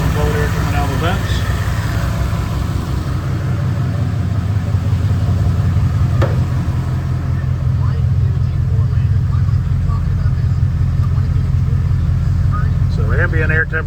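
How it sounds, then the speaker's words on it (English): The AC compressor of a V8-swapped Chevy S10 runs continuously during a DIY recharge, a loud, steady engine-and-compressor drone with no breaks and no talk. "we're getting some Freon in there, compressors running all the time"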